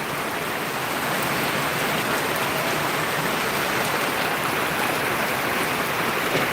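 Steady unseasonal rain falling hard on a vegetable market in Boisar, a continuous hiss of drops on surfaces with no voices, even in loudness throughout.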